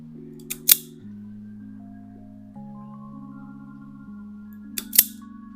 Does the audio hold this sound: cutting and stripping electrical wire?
yes